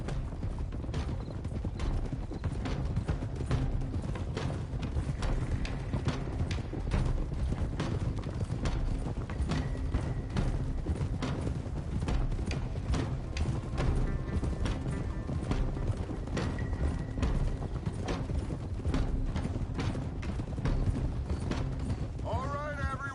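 Horses moving in the open world of the video game Red Dead Redemption 2, a steady clip-clop of hooves running throughout with occasional whinnies, mixed with game ambience and dialogue.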